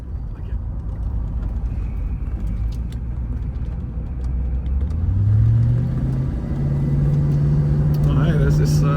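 A classic Range Rover V8 drives along a country road in Somerset with a steady, loud engine rumble. The engine revs up into a rising drone halfway through, with road noise underneath and no clear talk.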